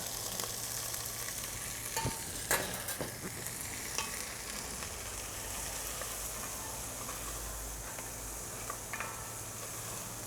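Onions seasoned with Cattleman's Grill Lone Star brisket rub frying in a Dutch oven, a continuous even sizzle with a few scattered spoon clicks and scrapes near the start, no voices.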